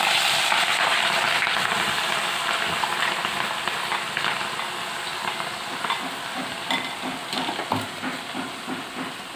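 Chopped green chillies frying in hot oil with mustard seeds in a pan for chilli pickle, a continuous close sizzle and hiss with light stirring taps, loud at first and easing slightly toward the end.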